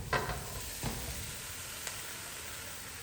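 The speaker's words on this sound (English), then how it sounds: "dust that in, stir this around, add all of these in here." A spoon stirs chili powder and spices in a pot of Indian spice blend, with a few soft scrapes and knocks over a faint constant sizzle, quiet and close.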